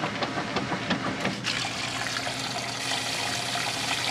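Water rushes steadily into a washing machine on a large load setting, a continuous close, loud splashing flow with a brief surge early on and no talking.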